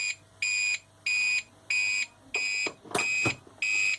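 A loud electronic beeper on an APC 700 UPS unit sounds in a steady on-off rhythm of about seven long beeps, with brief rustling handling noise partway through.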